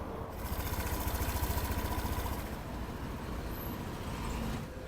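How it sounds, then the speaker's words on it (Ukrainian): A maxi scooter engine, a Honda PCX150 or Yamaha NMax, idles smoothly and fairly quietly with a steady low pulsing hum and slight vibration, running continuously and close by with no talk. "Дуже м'яка робота двигуна, тихенька, в міру, я б сказав, вібрації відчувається."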